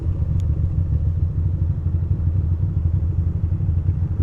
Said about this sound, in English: We got a motorcycle rider.